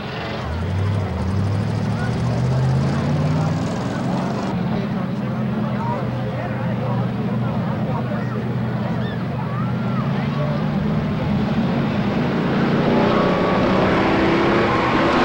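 Dirt-track race cars idle and rumble together as they line up before the start of a 12-lap heat race, a loud continuous engine drone that gradually climbs in pitch as the pack rolls forward, with crowd and open-air ambience underneath.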